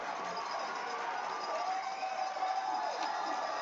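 A crowd cheers at a Washington State private school lacrosse championship game, a broad, steady roar of many voices at a distance that holds level for the whole stretch.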